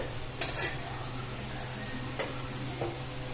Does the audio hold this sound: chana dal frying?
yes